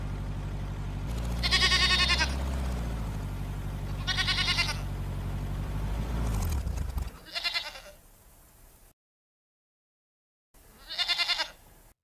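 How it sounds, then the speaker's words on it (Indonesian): Goats intended for Eid al-Adha sacrifice bleat loudly in long wavering calls, several in a row, over a steady low hum; the sound cuts out briefly before one last bleat. "Kambingnya banyak sekali."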